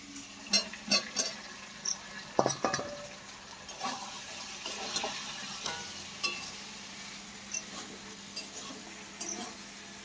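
Potatoes fry in a pan for a chicken curry, a faint sizzle under scattered spoon clinks and scrapes as they are stirred, with one louder clatter early on.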